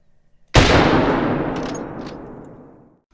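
A single sharp 30-30 hunting rifle shot at a blacktail buck in theHunter: Call of the Wild, loud and close, then a long reverberating decay fading over about two and a half seconds.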